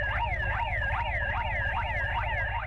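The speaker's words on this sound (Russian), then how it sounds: "оповестить людей с помощью сирены" A loud warbling fire alarm siren used by volunteer firefighters wails continuously, its pitch sweeping up and down in a steady repeating cycle, with a low rumble underneath.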